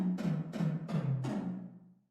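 Four punchy synth tom hits, each falling in pitch, sound one after another through a big 80s-style room reverb with chorus, their tails washing together and fading out at the end.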